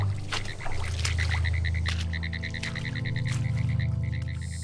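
Tree frogs call in Central Florida, a rapid series of repeated clicking notes in steady bursts close by, over a low humming drone, with no talking.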